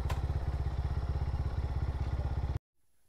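A motorcycle engine runs close up on a hill road with a rapid, even, throbbing putter, then cuts off abruptly into near silence.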